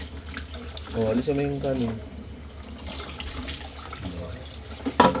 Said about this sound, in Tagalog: Dahan-dahan lang yung tubig.